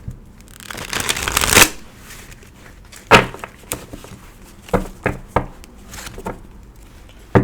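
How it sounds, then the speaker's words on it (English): Playing cards being shuffled up close: a long riffling burst followed by several short, sharp slaps and flutters as the deck is mixed again. "That wasn't a smooth shuffle, so we'll keep mixing it up."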